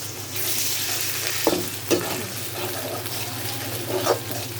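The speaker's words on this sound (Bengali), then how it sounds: "রসুনটা ভাজা ভাজা হয়ে গেছে।" Garlic sizzles in hot oil while cooking fish with tomato, a constant crackle broken by a few clinks of a spoon stirring the pan.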